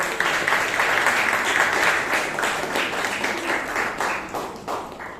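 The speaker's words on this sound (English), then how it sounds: "Let's give another round of thunderous applause." A Toastmasters club audience in Bangalore breaks into sustained applause, a thick, even stretch of many hands clapping throughout, loud and close, with no speech over it.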